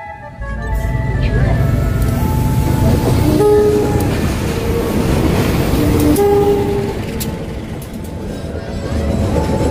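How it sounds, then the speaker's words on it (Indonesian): Night street ambience at a railway level crossing near Malioboro Street in Yogyakarta: a steady loud traffic and train rumble with horn toots and tonal warning sounds, while a person talks over it. "saat ini kita sedang menyeberangi perlintasan kereta api ya menuju Jalan Malioboro"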